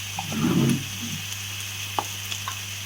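Four vegetables, aubergine, cauliflower and tomato among them, frying in hot oil in a pan with a steady close sizzle and a brief louder crackling burst near the start, no talking.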